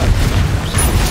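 The Confringo explosive curse from Hogwarts Legacy goes off, a dense, loud, booming blast with a heavy low rumble that fills the short moment, close and without speech.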